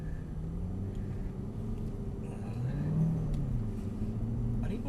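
A Mercedes-AMG car on a driving-experience track gives a low, steady engine rumble that swells a little as it accelerates, heard from inside the car at moderate level.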